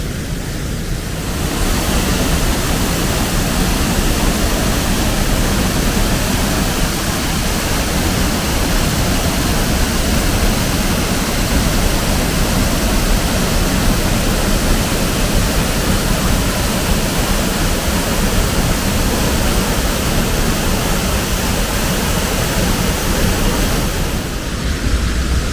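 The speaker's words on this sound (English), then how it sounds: "The height of the waterfall is more than 10 meters." A waterfall more than ten meters high above a lake roars nearby as a loud, constant, broadband rush of falling water that fades in at the start and holds steady to the end.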